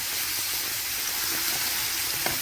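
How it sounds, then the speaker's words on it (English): Minced ginger sautéing in a pan on a home stove, a steady close sizzle and hiss with faint crackles running without a break. "I add my minced ginger. I saute it a little."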